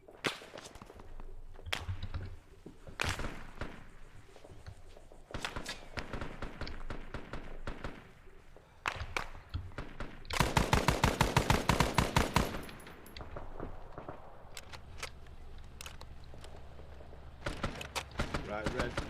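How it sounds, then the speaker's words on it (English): Gunfire in the military shooter ArmA, scattered single shots, then a loud rapid automatic burst in the middle, with further sporadic reports and footsteps, all under ongoing talk. "Shots north again."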